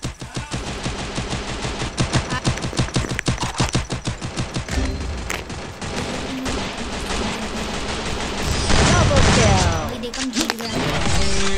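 Automatic gunfire from the battle royale game Free Fire rattles in fast, dense bursts, loud and continuous, followed by heavier blasts and crashing impacts near the end, with voices mixed in.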